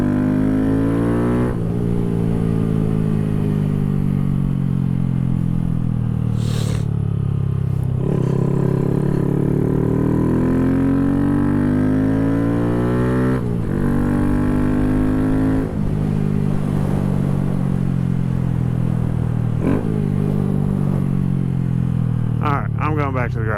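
Honda Grom motorcycle with a DHM high compression piston, cam and tune, riding with steady loud engine drone that rises and falls through repeated gear changes and revs, heard up close with wind noise throughout.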